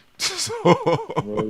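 A single sharp sneeze during a comic book livestream, followed at once by someone talking.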